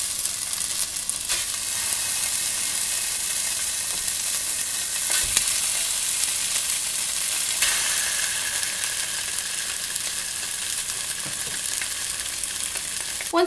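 Sausage browning over medium-high heat in a hot non-stick pot makes a loud, continuous sizzle with a few sharp pops and crackles, close by and without any voices.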